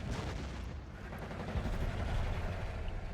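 Artillery fire in the KARDS card game, dense continuous rumbling barrage of booms and crackling blasts, loud and sustained throughout without a break.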